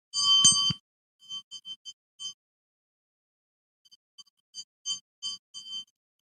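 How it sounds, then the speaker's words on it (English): A small ritual bell rings in quick bright clusters during a food offering in a devotional program, a strong burst followed by lighter scattered rings and pauses, alone without talk. "Please ring the bell as you do so."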